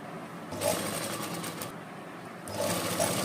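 A sewing machine stitches a salwar cuff with a steady, close mechanical whir. There are two running bursts with a short pause between them, and no talking.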